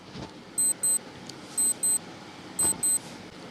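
A quiz countdown timer sounds short electronic beeps in pairs against a steady background hiss. Three pairs come at roughly one-second intervals.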